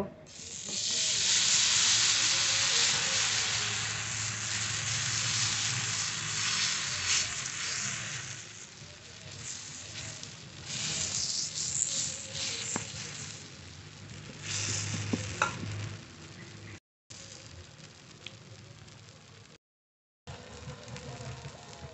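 A fish omelette fries in oil, hissing loudly and steadily at first, then settling into a softer crackle broken by a couple of brief gaps.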